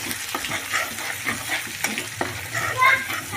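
Ground masala paste of tomato, dried coconut, garlic, ginger and coriander frying in a pan; a steady close sizzle with scraping stirs throughout.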